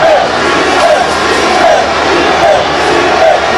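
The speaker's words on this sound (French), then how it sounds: "L'annonce de l'arrivée du capitaine Ibrahim Traoré qui a déclenché une vague d'acclamation." A massive stadium crowd in Burkina Faso roars in sustained acclamation for Captain Ibrahim Traoré at a new stadium's inauguration, a loud, dense wall of cheering with rhythmic chant-like swells.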